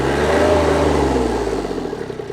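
Three-cylinder Sonalika GT 22 mini tractor engine revving steadily, a loud, close, continuous throaty drone with a slight fluctuation in pitch and no talking.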